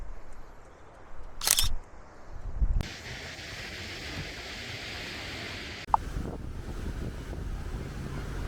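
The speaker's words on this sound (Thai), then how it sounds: "ผมว่าลมแรงแล้วทรายก็เยอะมาก" Strong wind buffeting the microphone at Muizenberg beach in South Africa, a steady rushing roar with a few sharp clicks and bumps, no talking.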